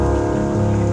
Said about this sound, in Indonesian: Mudah-mudahan hujan ini menjadi berkah.